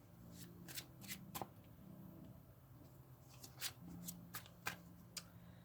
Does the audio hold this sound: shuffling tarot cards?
yes